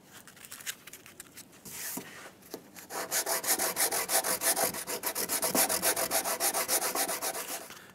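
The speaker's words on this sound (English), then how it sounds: "So we're not going to sand too much more right here." Hand sanding of not-quite-cured Bondo body filler on the cab corner of a 2001-2006 Chevrolet Silverado 2500, a few scattered rubs followed by steady, rapid back-and-forth scratchy strokes, close and fairly loud.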